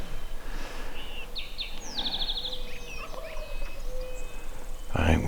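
Wild turkeys in the woods, a couple of distant gobbles and chirping calls carrying through steady outdoor background noise, with a brief louder knock near the end.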